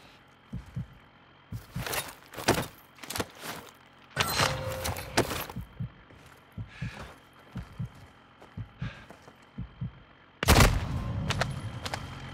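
Scattered single gunshots and short bursts in Modern Warfare 2 crack out at uneven intervals, with a few heavier, closer blasts breaking through quieter gaps.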